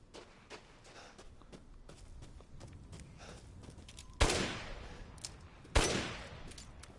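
Two loud, sharp gunshots ring out a second and a half apart in the Resident Evil 8 video game, each with a short echoing tail, after quieter clicks and footsteps.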